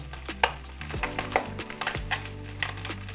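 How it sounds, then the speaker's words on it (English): Soft sizzling and crackling from fish frying in a pan, with occasional light clinks and spatters, close and fairly quiet. "So that is frying away very nicely"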